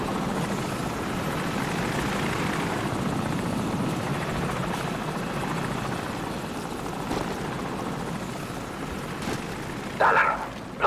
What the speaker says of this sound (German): Ein Helikopter.